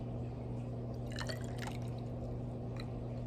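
Water, 15 millilitres, is poured in a classroom density lab, heard as faint brief trickling and splashing over a steady low electrical hum.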